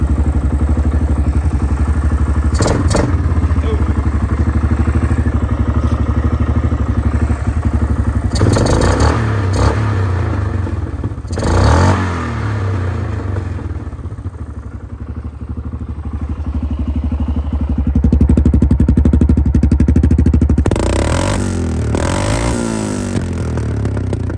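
A Yamaha Grizzly 660 ATV engine runs loud and close on an aftermarket replacement carburetor and new air filter, a steady rumbling idle broken by several sharp revs and clattering bursts.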